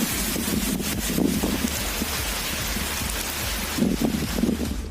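Heavy rain pours steadily over roads in the Kodaikanal hill areas of Dindigul district, a dense continuous hiss with low rumbling underneath and no voices.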